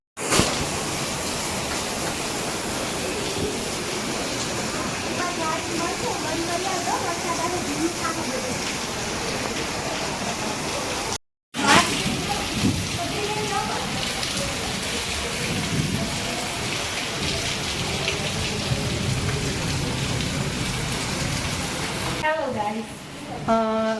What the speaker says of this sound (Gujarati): જોરદાર વરસાદ આવે છે